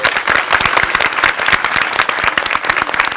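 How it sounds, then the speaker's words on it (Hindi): A college crowd of female students at Maharani College in Jaipur breaks into loud, dense applause, the rapid clapping sustained and close throughout with no voices over it. "आपके लिए जोरदार तालियां।"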